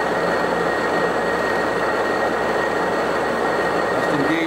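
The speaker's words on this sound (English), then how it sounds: "We're ready to put the internal counterbore in there." A lathe machines an internal counterbore in a top coupling in a single pass without coolant, making a loud, steady grinding roar with a sustained metallic whine throughout.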